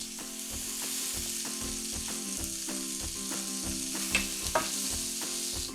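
Prawns for Parsi prawn patia sizzling in a hot pan while being stirred, with regular scraping strokes of a utensil and a couple of sharper clicks.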